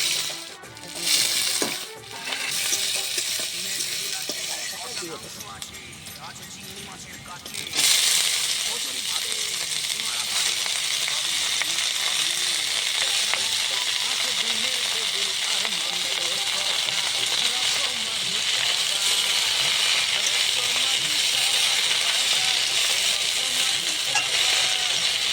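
Garlic and black cumin seeds fry in hot oil, a loud, steady broadband sizzle that flares up sharply after a brief quieter start and then holds continuously close by, with faint stirring clinks mixed in.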